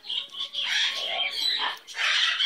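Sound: pet bird squawking

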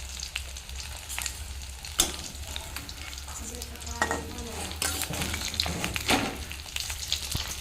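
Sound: katla fish frying in a pan

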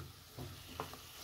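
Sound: bell pepper frying and being stirred in a pan

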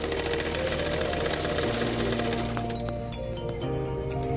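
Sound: sewing machine stitching a blouse

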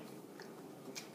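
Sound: biting a crunchy cookie shot glass

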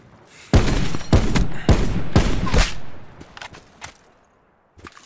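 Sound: gunfire from a gun in Call of Duty Blackout video game

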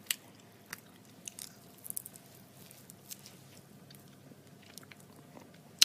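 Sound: chewing and eating crunchy coated peanuts

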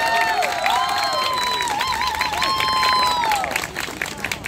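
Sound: audience applause for tango dancers

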